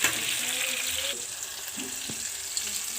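Tomatoes are dropped into softening onions frying in a pan for an egg biryani, giving a loud, steady sizzle and hiss with a brief clatter near the start, heard close up and without voices.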